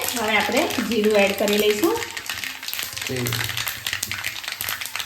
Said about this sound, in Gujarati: આપણી રાઈ ચટકવા લાગી છે.